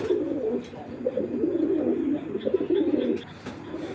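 Racing pigeons in a loft coo continuously in low, rolling murmurs, several birds overlapping close by with a few faint taps and rustles.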